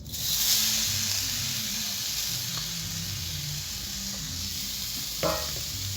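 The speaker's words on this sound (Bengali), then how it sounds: "পিঠের পুর বানানোর জন্য আমি কড়াইয়ে নারকেল দিয়ে দেবো।" Grated coconut fries in a wok for a bhapa pitha filling with a steady, close sizzle and soft hiss throughout. Light stirring sounds run under it, and a short utensil clank comes near the end.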